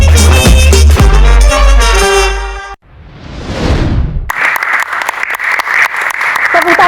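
Applause at a stage Q&A event for a singer: a crowd claps loudly and steadily in a dense wash that follows a passage of music and a brief rushing sweep.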